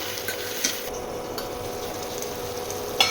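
Chicken liver curry fries in a pan while being stirred, giving a steady low sizzle with occasional light scrapes and clinks of the spoon against the pan, close and moderately quiet, with no talking.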